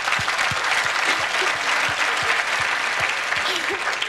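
Audience in a comedy club at a stand-up show breaks into steady, dense applause, close and sustained for the whole stretch, with a few low thumps and faint voices mixed into the clapping.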